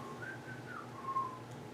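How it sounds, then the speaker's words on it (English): A person whistles a wavering, thin tone straight into a podcast microphone, fairly faint and lasting about a second over a steady low room hum. "For the mic, sorry for that whistle."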